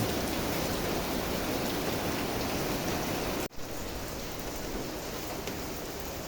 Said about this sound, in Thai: นี่ฮะฝนตกถนนลื่นนะครับ